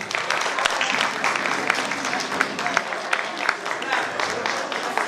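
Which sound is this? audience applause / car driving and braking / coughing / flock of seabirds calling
audience applause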